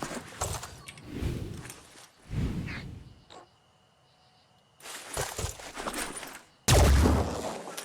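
Sniper rifles fire in the Phoenix Point strategy game, giving several loud, sharp broadband bursts with a heavy final blast, separated by quieter gaps of low rumble.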